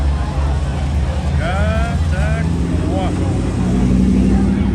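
A quad bike drives along a beach street at night in Jacksonville, its engine droning steadily and loud nearby while a person talks over it.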